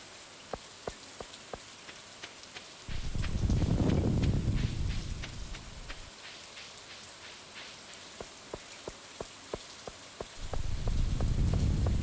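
Continuous rain patters down on a Stardew Valley farm, a steady hiss dotted with sharp regular ticks, while louder whooshing gusts rise and fade twice, with no one talking.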